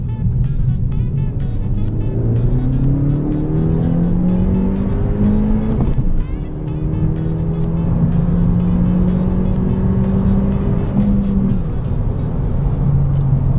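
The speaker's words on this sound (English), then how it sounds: "we're gonna do a little pull here, going on the freeway" A Honda car pulls hard on the freeway from inside the cabin, the engine note climbing steadily through the revs, dropping with a gear change around midway, then rising again under loud road noise.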